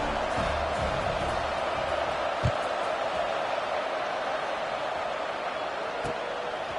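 Stadium crowd at a college football game, Arizona State versus Utah, in the College Football 26 video game: a steady, broad roar of crowd noise that holds evenly throughout, with a couple of brief thumps.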